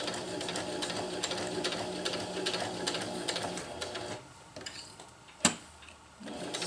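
Sewing machine stitching hammock tie-outs, a close, rapid ticking hum that runs for about four seconds, then stops, followed by a sharp click and quieter handling.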